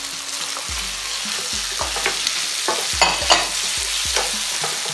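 Tomatoes and anchovies sizzling in a hot pan while being stirred, a steady close frying crackle punctuated by repeated scraping knocks of the spoon against the pan.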